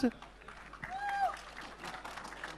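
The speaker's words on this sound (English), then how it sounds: "Can we hear a huge round of applause for our stars?" A crowd applauds for the film stars at the KGF 2 trailer launch event, a steady wash of clapping and cheering that stays moderately loud, with a voice briefly calling out over it.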